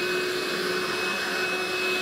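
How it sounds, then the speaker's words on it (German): Genius Invictus X3 vacuum cleaner running steadily on a carpet, a loud continuous whirring hiss with a high tonal whine, close and constant throughout with no talk. "Wir probieren jetzt einfach mal aus, wie viel der wegsaugt."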